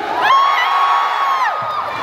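A crowd at an election campaign rally lets out a loud, sustained roar of shouting and cheering, with one high whooping voice rising above it for about a second before it fades.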